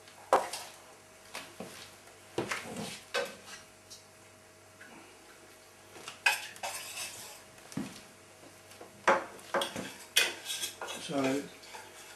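A spoon stirs chocolate and liqueur together into a hot sauce for a mousse royale, giving repeated close clinks and scrapes against the bowl in uneven bursts over a low steady background hum.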